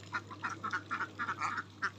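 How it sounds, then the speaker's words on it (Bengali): Ducks at a pond farm of about 500 birds quack in a quick, repeated series of close, moderately loud calls over a constant low hum. "এখন এই হাঁসগুলো 500 হাঁস আছে এখানে"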